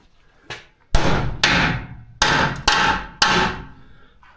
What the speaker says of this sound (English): I'll get a hammer and see.